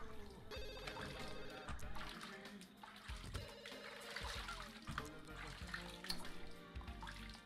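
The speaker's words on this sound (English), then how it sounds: "And the phone is ringing." A telephone ringing inside a house in The Sims 2, a steady repeated ring blended with busy game music and other household sounds.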